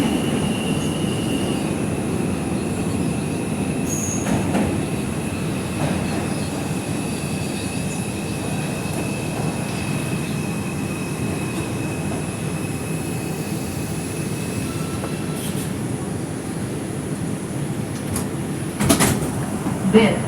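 An R142 subway train runs on the Manhattan-bound 4 Express line, with a steady loud rumble of wheels on track and occasional high squeals, heard from onboard over about twenty seconds.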